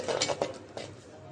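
A spice paste of garlic paste, chili, turmeric and coriander powders and salt is stirred in a pan, giving a few quick metallic scrapes and clinks of a spoon against the pan, close and short.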